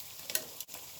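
Ripe banana fritters fry in shallow oil that reaches halfway up their sides, giving a soft, steady sizzle with a few brief crackles.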